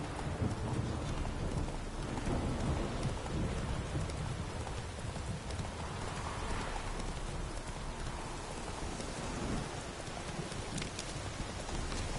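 Steady heavy rain pours in The Witcher video game, a dense, continuous hiss with low rumbling that may be distant thunder, even and unbroken throughout.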